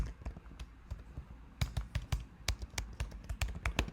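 C++ code being typed on a computer keyboard gives quick, close clicking keystrokes in uneven bursts, sparse at first and then denser, with no talk over them.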